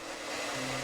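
A household vacuum cleaner runs steadily and close by, a dense, constant whine and rush with a low hum joining partway through, no voices over it.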